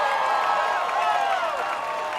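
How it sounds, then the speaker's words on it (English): A crowd at a Warped Wall competition final cheers and applauds steadily, a broad wash of clapping and shouting, with an announcer's voice running over it. "the crowd is responding"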